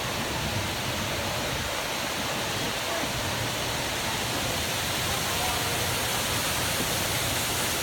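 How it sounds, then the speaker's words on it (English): Indoor waterfall in the Delta area of the Opryland Hotel, a steady loud rush of falling water filling the space without a break. "Now this is the 3rd waterfall here in the Delta."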